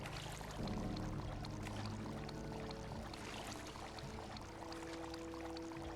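Water being collected from a junkyard fountain in the video game Fallout 76 gives a continuous pouring, splashing rush that stays steady and close throughout.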